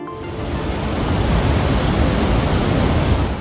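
Vøringsfossen waterfall in Norway roars as a dense, continuous broadband rush of falling water, loud and steady throughout with no voices.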